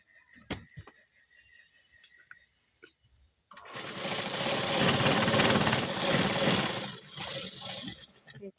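A sewing machine stitches a double-folded blouse hook strip, starting after a few clicks and taps and then running in a steady, loud, fast whirring stretch that slows slightly toward the end.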